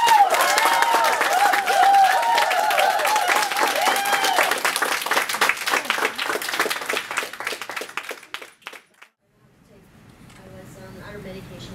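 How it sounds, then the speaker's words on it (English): Audience applause with cheering voices rings out loud and steady, then thins to scattered claps and stops around the ninth second before quiet room sound and talk resume. "Give him a big round of applause."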